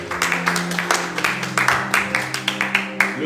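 A church congregation claps together in a brisk, even rhythm, each clap crisp and evenly spaced, with voices faintly underneath.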